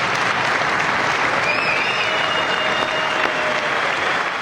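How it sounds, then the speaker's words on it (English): Sustained applause and cheering fill the House chamber, a loud, even roar of clapping with a few faint whistles rising over it, continuing unbroken throughout. "the House chamber erupted in cheer"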